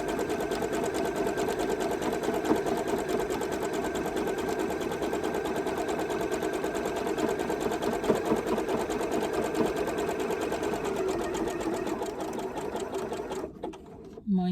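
A sewing machine stitches a crazy patchwork postcard, its needle running in a steady, fast mechanical whir close by for about thirteen seconds before stopping abruptly near the end.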